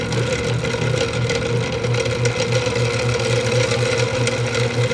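An SC125 Linewinder machine spools monofilament line onto a conventional reel, giving a steady, continuous motor whir and hum at an even pitch that stays level throughout, with no talking.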